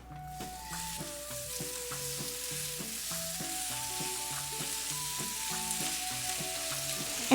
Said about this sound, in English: Add your beef strips.